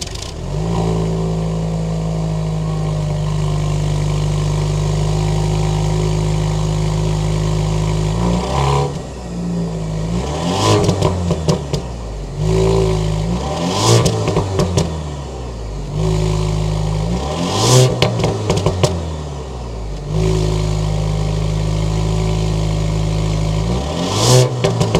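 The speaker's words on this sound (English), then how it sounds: "start it up so you can hear that exhaust now" A 2023 Range Rover Velar with the 2.0-litre turbocharged four-cylinder revs repeatedly, a steady idle broken by several sharp throttle blips that climb and fall back, loud and close from the exhaust.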